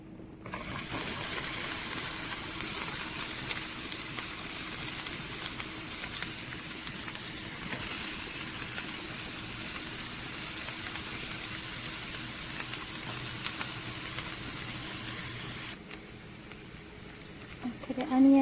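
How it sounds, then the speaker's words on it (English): Onions frying in a saute pan, a steady close sizzle holding evenly for most of the stretch before dropping away near the end. "okay, the onion is frying nicely."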